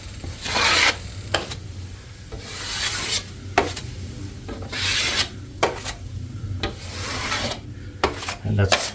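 A taping blade rasps across drying drywall cornice mud, knocking down the edges in a series of repeated scraping strokes, each separated by brief pauses, close and moderately loud.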